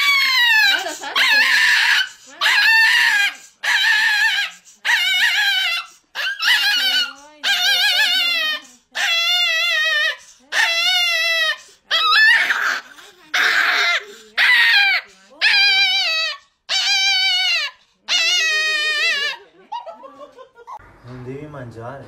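A dog lying down gives a long series of about sixteen evenly spaced, high, whiny woofs, close and fairly loud, followed by a soft murmur at the end.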